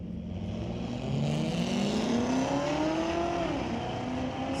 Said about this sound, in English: C6 Corvette and a little Mustang